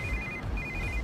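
A phone ringtone trills in two short electronic bursts with a brief pause between them, clear and close.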